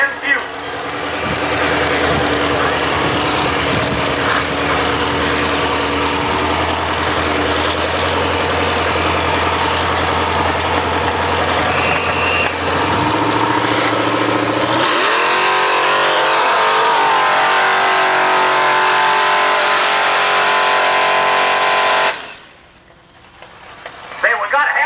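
A 1972 Chevrolet Blazer at a mud run race in Washington, Illinois, roars loudly and close, its revs climbing steeply midway before the engine cuts off near the end, while an announcer talks over the noise.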